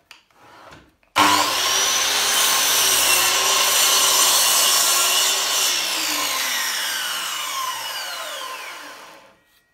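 A Metabo KGS 216 M mitre saw spins up abruptly and cuts through wood in one loud, sustained pass, its whine gradually falling as the blade slows and stops.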